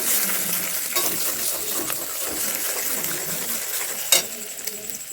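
Egg with fried onion and chillies cooks in a pan for chow mein, a dense close sizzle broken by several metallic spatula taps and scrapes, one louder clank near the end, no voices.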